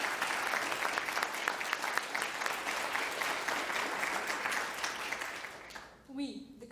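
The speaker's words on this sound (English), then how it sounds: "So let us take a moment and show our gratitude with a good round of applause." A crowd gives a sustained, dense round of applause for teaching staff at a class of 2020 graduation held online; the clapping stays steady for several seconds, then cuts out as a voice starts speaking.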